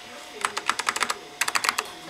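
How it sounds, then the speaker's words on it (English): Arrow keys on a Macintosh Quadra 610 keyboard are tapped in two quick clicky runs, close and crisp, with a short pause between bursts. "Oh, I hate these arrow keys."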